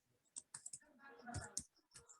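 Several quick, sharp keystrokes on a computer keyboard, irregular taps and clicks close and quiet over a couple of seconds, with faint low voice traces in the background.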